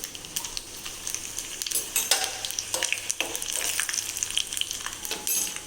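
Dried red chillies, cumin and mustard seeds sizzling and crackling in hot oil while being stirred, a steady close hiss with scattered pops and faint utensil scraping.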